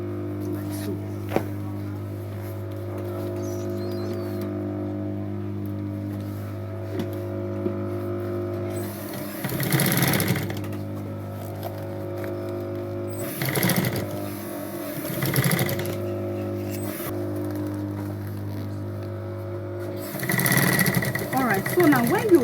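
A sewing machine stitching a child's school backpack runs with a steady mechanical whir, starting and stopping in several short bursts, while someone talks over it and explains the seam.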